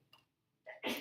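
A single close sneeze bursts out at the end, preceded by a short sharp intake of breath in an otherwise quiet room.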